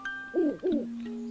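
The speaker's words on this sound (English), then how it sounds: "I hear a flippy flapper owl." A short, close owl hoot in The Legend of Zelda: Link's Awakening, two soft rising-falling notes over a faint steady electronic tone.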